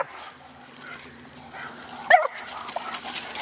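A hunting dog barks during a hare hunt outdoors in oak brush. One sharp, loud bark comes midway, followed by a few fainter yips and whimpers against quiet rustling.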